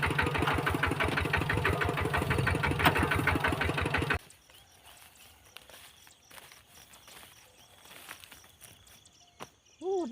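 A tractor engine chugs loudly and steadily for a few seconds in a rice field, then cuts off, leaving quiet outdoor ambience and a short voice at the end.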